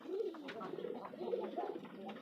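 Pigeons coo softly and repeatedly inside a pigeon farm, overlapping low throaty calls heard at a moderate distance with faint background noise.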